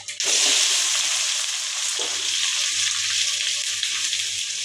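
Cumin, mustard seeds and chopped onion drop into hot oil and start frying, bursting into a loud, steady sizzle that holds, close by and with no talking.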